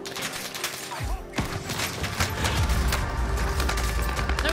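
Rapid SMG gunfire in the Warzone battle-royale video game, a dense, continuous stream of shots with thuds and booms, loud and sustained after a brief quieter opening.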